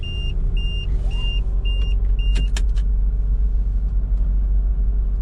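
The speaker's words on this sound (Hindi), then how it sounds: "अब हल्की हल्की आपको रेस देनी शुरू करनी है।" A car engine idles with a low steady rumble while the accelerator is pressed gently, alongside a few repeated electronic chimes and a brief click inside the cabin.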